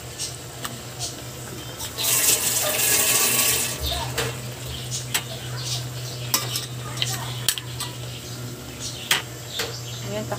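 Shrimp and mussels (tahong) cook in a pan with a soft steady sizzle, several sharp utensil clinks and a brief louder watery hiss near the start, with some talk.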